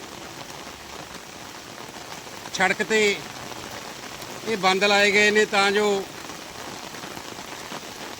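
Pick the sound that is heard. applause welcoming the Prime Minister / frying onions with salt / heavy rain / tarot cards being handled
heavy rain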